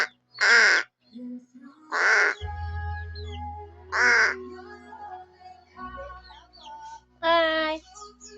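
A crow in a garden caws in several loud, separate bursts spread out with pauses between them, nearby, with a low rumble and a few faint voices underneath.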